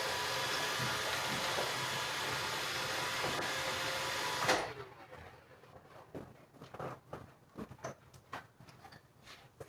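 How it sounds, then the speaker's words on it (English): A Roomba robot vacuum whirs steadily indoors for about four and a half seconds, then cuts off abruptly, leaving a quiet room with scattered small clicks and knocks. "I gotta turn off my Roomba before it ruins the sound"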